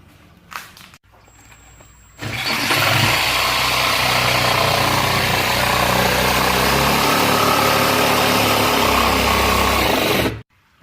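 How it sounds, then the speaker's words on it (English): A jigsaw cuts through large sheeting for a pigeon cage floor, a loud, steady buzzing drone that kicks in after a few quiet seconds and runs unbroken for about eight seconds before stopping. "Just mark my line with a straight edge and then just going to cut it with a jigsaw."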